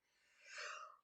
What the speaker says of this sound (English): Somehow that made me sneeze.